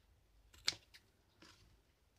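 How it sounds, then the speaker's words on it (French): Scissors snip through tutu fabric in a quiet room: one sharp close cut stands out, with a couple of softer snips before and after it, and no voices. "Alors ici, je vais couper."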